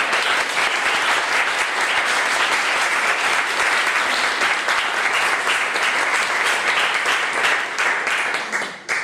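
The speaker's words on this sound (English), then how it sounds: "Please give Dr. Neufeld a warm welcoming applause." An audience at a lecture on children's needs in Sweden applauds warmly to welcome Dr. Neufeld, with dense, sustained clapping from a full room that carries on steadily before thinning at the very end.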